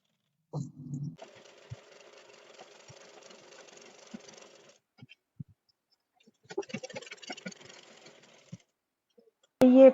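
A sewing machine stitching a Patiala salwar runs in two buzzing bursts, a longer steady run and then a shorter one. Faint clicks sit in the quiet gaps, and a sharp knock ends the stretch.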